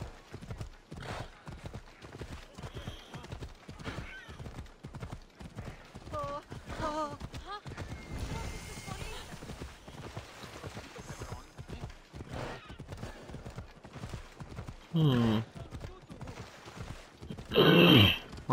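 Steady, rhythmic clip-clopping of horse hooves in the video game Assassin's Creed Odyssey continues throughout, with occasional voices talking over it and a brief whinny.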